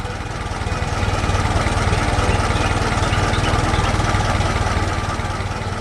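A farm cultivator machine's engine runs steadily in a cartoon farm scene, a continuous loud mid-pitched mechanical drone with a fast chugging pulse that swells slightly and holds level throughout.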